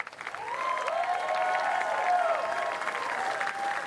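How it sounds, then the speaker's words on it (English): A large arena crowd applauds and cheers for the finalists at a girls' state basketball final, a sustained wash of clapping with whoops rising over it. "how about a nice round of applause for our 2 finalists?"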